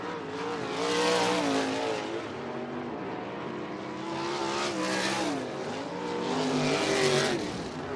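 USAC race cars roar around Ocala Speedway in a continuous loud engine drone that swells and fades as the pack passes close by, with no talk over it.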